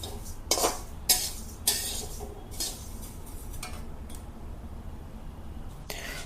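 Peanuts being slowly dry-roasted on a medium flame in a pan for healthy laddus, with a few sharp metallic scrapes and clinks of the stirring spoon early on, then a quieter steady rustle.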